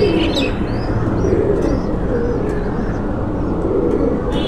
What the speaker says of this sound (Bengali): ফিরোজপুরি কবুতর।